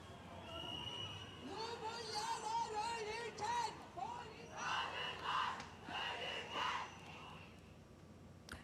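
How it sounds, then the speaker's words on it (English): A large crowd of women chants slogans in rising, rhythmic shouts at a street march, with piercing whistle blasts bursting through in the second half, loud and fairly close. "Large crowd of women, mainly dressed in purple, marched through the streets, chanting slogans and blowing whistles during the rally."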